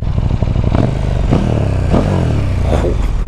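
A 2018 KTM 1290 Super Duke engine runs loud and close, rising and falling through several rev swells with a rough, throbbing low growl and faint mechanical clatter.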